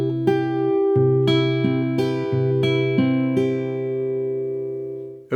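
An acoustic guitar with a capo picks the opening hook of a song: clear single notes and open-string tones ringing one after another at a relaxed pace, close and alone.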